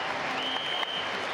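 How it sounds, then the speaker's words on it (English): Scattered applause from a stadium crowd at the World Athletics Championships in Daegu, 2011, following a javelin throw of about 82 meters by a Ukrainian athlete; a steady, broad wash of clapping held at an even level throughout. "He's applauding himself there."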